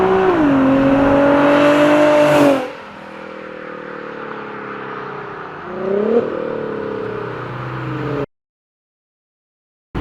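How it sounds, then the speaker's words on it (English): An Infiniti G35 sedan with an ARK Grip catback exhaust and ISR long-tube headers revs loudly up and down, settles into a rumbling idle, blips once more, then cuts off abruptly. "All of you who have been messaging me saying you want to hear Alex's exhaust with the ISR headers, there you go"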